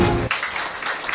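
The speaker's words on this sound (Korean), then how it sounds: "네, 박수 한번 드리시죠" Audience applause at a seminar fills the room, a dense wash of clapping that takes over right after a brief tonal moment at the start.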